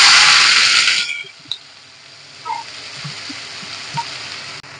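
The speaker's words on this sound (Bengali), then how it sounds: "আমি লাল লাল করে ভেজে নেব।" Onions frying in hot oil in a kadai wok: a loud, dense sizzle for the first second that then drops to a softer, steady hiss with a few small pops and clinks.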